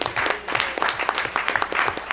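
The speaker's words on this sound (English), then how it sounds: "Let's give him a big round of applause." Applause for a commissioner at an off-site evening public meeting of a Board of Public Works, a steady crowd of hands clapping close and loud throughout, with a faint voice underneath.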